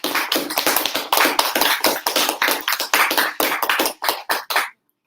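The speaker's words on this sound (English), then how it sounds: "Please give your teachers a big round of applause." An audience at a middle school end-of-year assembly applauds its teachers with loud, dense clapping that holds steady for several seconds, then thins into a few scattered final claps and stops.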